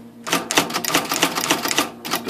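An IBM Selectric electric typewriter being typed on, a fast, close run of sharp, even keystrokes and striking clacks, loud and alone.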